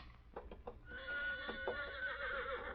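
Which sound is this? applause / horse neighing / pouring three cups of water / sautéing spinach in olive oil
horse neighing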